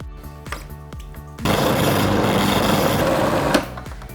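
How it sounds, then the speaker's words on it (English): Food processor blitzing a fish cake mixture of fish and watercress, loud steady whirring roar for about two seconds, preceded by a few short pulsed bursts and cutting off abruptly, close and alone. "And then you want to blitz this till it goes into a ball."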